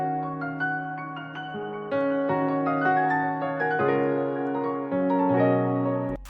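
A synth pad called Chill Pad 1 layered with pianos plays a slow, sustained chord progression, with soft piano notes ringing over a smooth, warm pad, mellow and continuous with no voices.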